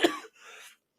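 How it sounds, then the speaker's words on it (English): A single short, raspy cough followed by a brief breathy throat sound, close and fairly quiet. "hope my cough gets better before then"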